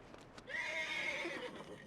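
A horse in Red Dead Redemption 2 whinnies once while being patted, a clear, fairly close neigh with a rising then trailing call over quiet game ambience and faint hoof movement.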